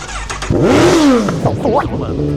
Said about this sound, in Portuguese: eu esqueci que o escapamento ele tá adulterado